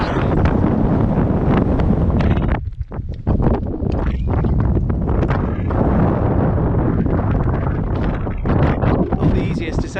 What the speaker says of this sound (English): I've got this serious wind buffeting on this ridge as well